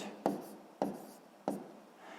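Pen or pencil writing out a fractions calculation, three short quick scratches spaced about half a second apart, close and quiet.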